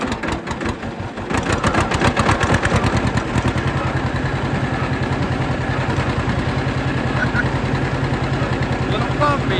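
A John Deere 50 tractor engine starts pulling away toward a cornfield, its loud two-cylinder exhaust thumping in a steady, rapid rhythm up close after an initial slower chugging, with a brief spoken word over it.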